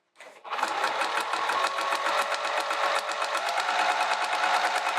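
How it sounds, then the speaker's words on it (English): A sewing machine stitches around a zipper pocket on vinyl, running at a fast, steady mechanical clatter from just after the start to the end, close and loud with no talk. "And we'll just sew all the way around the rectangle like we always do."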